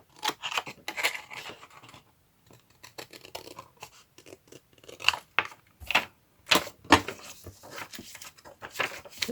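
Scissors snip through challenge paper at an angle in a series of crisp cuts and crunches, irregular and close, with brief quiet gaps between clusters of snips.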